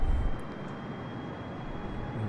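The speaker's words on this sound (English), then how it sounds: "Let's put the engines to full power." Jet airliner engines at full power in Microsoft Flight Simulator, a steady broadband roar holding evenly throughout, loud and close with no other sounds.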